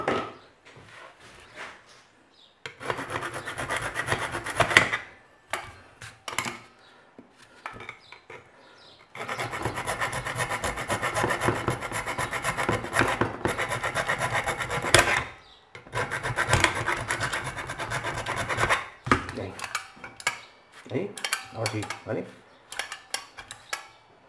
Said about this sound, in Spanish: Lo vamos a dar aquí un poquito con lima para evitar que este topecito se nos quede ahí pillado.